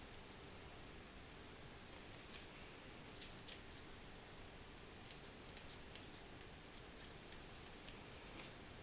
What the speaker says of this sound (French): on va venir couper le fond de carte